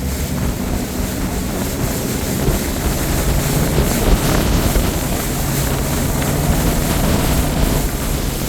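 Outboard-powered Skeeter ZXE bass boat with a Yamaha SHO 250 engine pulling onto plane, a steady, loud broadband engine roar blended with rushing water and wind across the whole stretch.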